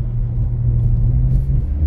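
Close, heavy engine rumble from a BMW E46 being driven sideways on snow, throttle held open in a continuous low drone, no talking.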